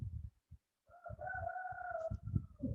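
A rooster crows once in a long, drawn-out call at middle distance, set against low rumbling background noise and scattered thumps, with no speech.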